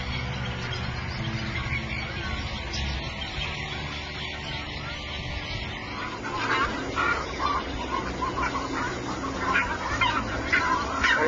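Swans and other waterbirds call near an island bank where birds nest, a steady chorus of honks and quacks at moderate distance that grows louder and busier in the second half.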